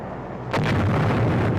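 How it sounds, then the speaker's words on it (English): A bombing explosion on Corregidor in a 1945 wartime newsreel. A sudden loud blast bursts in after half a second of quiet and rumbles on heavily to the end. "The Japs are bombing us from outside."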